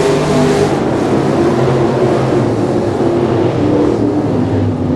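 Dirt track race cars roar together under green flag racing, a loud, steady engine drone filling the whole stretch without a break.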